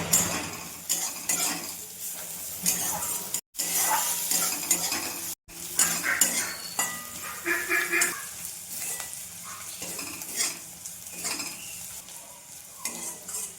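Onions frying in a pan before crushed ginger and garlic go in: a busy, close sizzle with constant scraping and clattering as a spatula stirs against the metal, no talk.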